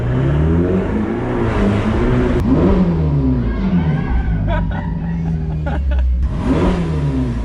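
A Ferrari engine revs hard several times, each throttle blip rising and falling over a steady idle, with people chatting and laughing nearby.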